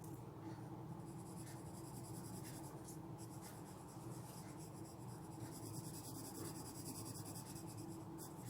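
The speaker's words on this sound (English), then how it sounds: "you will darken this similar space with the shade pencil of 6B" Soft, steady scratchy rubbing of a 6B graphite pencil shading on drawing paper for a still life, continuous close strokes with a faint rhythmic texture and no talk.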